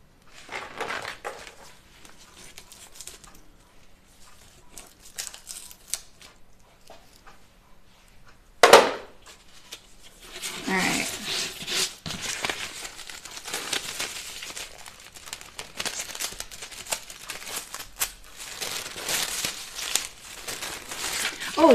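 Sewing pattern paper for Ash jeans is handled and crinkled, giving close, intermittent rustling that is quieter at first and then grows busier and louder after a sharp rustle partway through.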